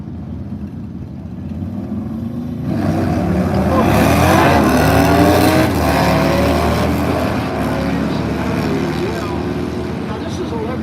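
Sportsman drag racing motorcycles launching down the strip in index racing, engines roaring up loudly from a quiet start and holding a sustained high-revving howl as they pull away, with a commentator talking over it.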